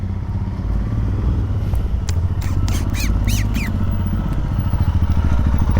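A motorbike engine runs steadily and close by, with a dense low rumble throughout, while a few short high squeaks or squawks break in over it.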